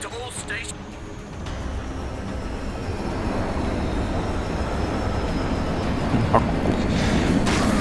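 An aircraft passing overhead in the zombie game Dead Island, a broad rumbling drone that slowly builds in loudness across the clip, with players chatting over it.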